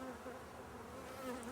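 Dense, steady buzzing of a very populous honeybee colony inside a hive sick with American foulbrood, a continuous close drone with no talking.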